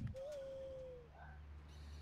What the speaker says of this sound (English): I can play as a bird